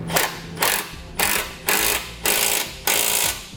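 A ratchet driving a 5/8 socket to tighten grille guard bolts on a 2012 Chevrolet Colorado: six evenly spaced, close bursts of rapid mechanical clicking, each about a third of a second, with short pauses between.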